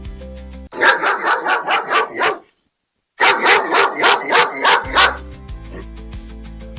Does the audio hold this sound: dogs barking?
yes